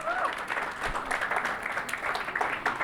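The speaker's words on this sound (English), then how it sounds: "please give this trailblazer a huge round of applause" Audience applause fills a hall at a conference session on psychedelics in mental health, steady dense clapping throughout with a faint voice briefly audible over it.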